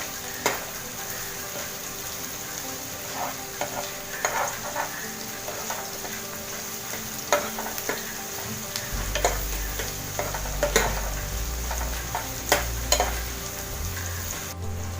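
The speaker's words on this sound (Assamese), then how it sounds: "পিয়াজখিনি খুব ভালদৰে আমি ভাজি লম" Onions fry in a pan over a high gas flame, stirred until golden brown for a chicken masala with potato: a steady sizzle and crackle with intermittent scraping stirs and utensil clicks, no talking.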